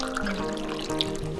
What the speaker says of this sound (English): Fresh water.